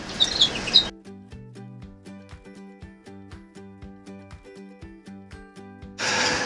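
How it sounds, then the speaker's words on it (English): A bullfinch cock bird in a canary room gives a series of soft, evenly spaced piping notes, clear and close, with louder chirping from other birds at the start and end. "it's this week's Bird of the Week, an absolute beauty. It is our bullfinch"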